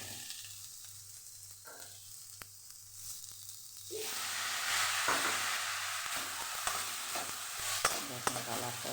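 Fried rice sizzling in a pan after sauces are added, a quiet start with faint clicks, then a louder sustained sizzle with scattered taps of a spoon against the pan; no speech.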